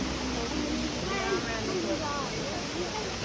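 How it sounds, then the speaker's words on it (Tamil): A waterfall pours in green, tree-covered hill country, its continuous roar of falling water filling the background while a person talks over it. "தண்ணி எப்படி விழுகுது பாருங்கள்"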